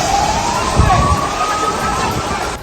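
A wailing emergency siren rises and holds in the distance over a rumbling, noisy background, with a brief thud near the start, as a hospital burns in Gaza.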